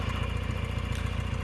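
A gas-powered farm tractor engine runs at a steady idle close by, a low throbbing rumble with an even, rapid pulse and no speech.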